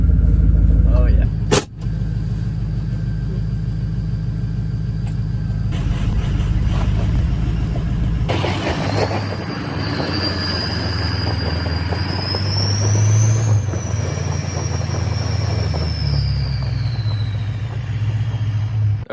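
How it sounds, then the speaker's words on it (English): A PowerStroke 6.0 truck in rear-wheel drive climbing a steep gravel driveway, its engine rumbling loud and near throughout with tyre crunch, and a rising whine after a sharp knock early on; speech runs alongside. "in rear-wheel drive, this thing does not like going up this gravel driveway"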